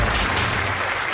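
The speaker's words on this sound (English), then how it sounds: "give them a big round of applause" Dense, steady applause from a studio audience on a TV game show, a loud continuous wash of many hands clapping at once with a faint murmur of crowd voices underneath.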